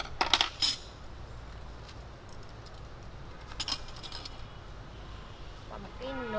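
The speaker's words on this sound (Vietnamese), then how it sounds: "Dao kéo." Metal cutlery and dishes clink and rattle while camping gear is packed for a spicy Korean noodle meal, a few sharp bursts of jangling at the start and middle, with someone talking throughout.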